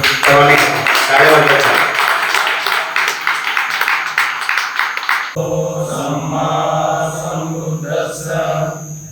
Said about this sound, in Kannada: ಒಂದು ಜೋರಾದ ಚಪ್ಪಾಳೆ ದಯವಿಟ್ಟು